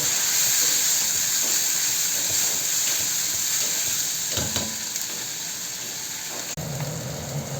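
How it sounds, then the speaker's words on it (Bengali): Turmeric, chili powder and ginger paste fry and sizzle in hot oil in a pan while being stirred, a steady close hiss with a few scraping clacks of the spoon and no speech. "1 টেবিল চামচ হলুদ দিলাম, একটু লঙ্কার গুঁড়ো দিলাম। এবার আমি নাড়ব।"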